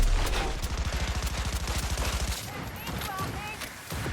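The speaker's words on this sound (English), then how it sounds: "Who is shooting me?" Rapid automatic gunfire in the Cyberpunk 2077 Phantom Liberty video game, a fast steady burst of shots for about two seconds, then scattered electronic game sounds and lighter impacts follow.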